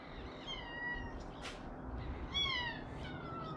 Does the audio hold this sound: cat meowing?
yes